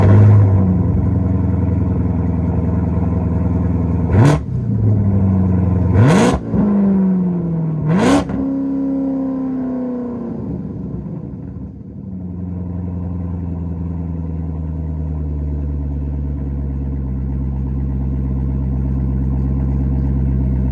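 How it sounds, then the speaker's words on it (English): A Corvette fitted with a Corsa exhaust cold-starts close by, with a few sharp throttle blips rising and falling over a deep rumble, then settles into a steady, loud, low idle that holds alone for the rest of the clip. "It has a Corsa exhaust on it, and I'm just gonna start it up for you guys so you can hear it."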